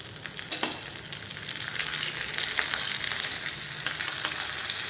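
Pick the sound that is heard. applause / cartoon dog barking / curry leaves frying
curry leaves frying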